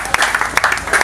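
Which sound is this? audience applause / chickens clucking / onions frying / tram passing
audience applause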